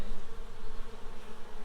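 Honey bees buzz in an open hive during a warm-weather inspection, a dense, steady, close humming drone from many bees.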